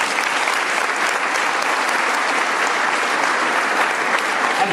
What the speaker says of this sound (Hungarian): Ezért kérek neki külön egy tapsot.